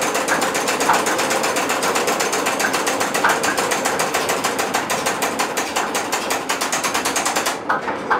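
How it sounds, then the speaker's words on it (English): An old engine at a restored historic flour mill, started on gas and switched to diesel, runs with a steady rapid mechanical clatter and rhythmic knocking, loud and continuous with no talk. "what this engine is, it starts on gas, and I'll switch it over to diesel"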